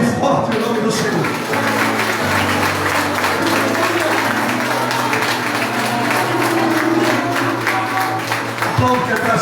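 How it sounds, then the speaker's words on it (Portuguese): A congregation claps loudly and continuously at a healing and deliverance church service, a dense, sustained wash of applause mixed with a voice and music throughout. "Aplaude forte o nome do Senhor."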